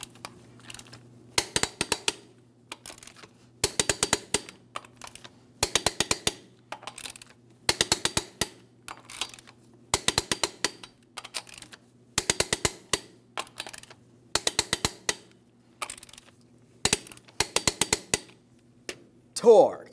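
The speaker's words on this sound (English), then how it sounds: "Let's go ahead and torque each of these lug nuts to 140 foot-pounds in a crisscross manner" A torque wrench tightens the wheel lug nuts on a 2007-2014 GMC Sierra 2500 HD, giving short bursts of rapid metallic ratcheting clicks, one cluster after another with brief pauses between them. The sound is close and loud, and nobody speaks.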